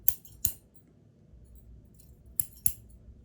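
Four crisp metallic snips of scissors, two close together at the start and two near the end, with quiet room noise between them.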